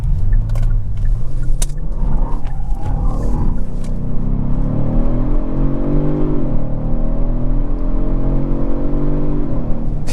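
A 2023 Kia Stinger GT2 AWD pulls hard, its engine note rising steadily through the gears with brief dips at shifts, loud and close with no voices.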